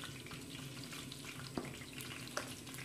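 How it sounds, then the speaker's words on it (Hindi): Cumin seeds hit hot ghee or oil in a pan, giving a steady close sizzle and crackle with a couple of sharp pops standing out. "तो हम फ्लेम ऑन कर देंगे। ये ज़ीरा हमने डाल लेना है,"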